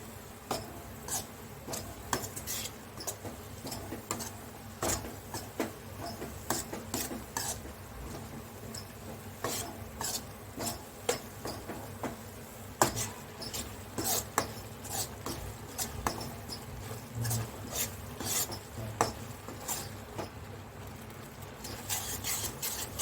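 Flour roasts in ghee in a pan for adadiya pak, with soft, regular clicks and scrapes of a spoon stirring it over a faint low hum. The sounds stay quiet and fairly close.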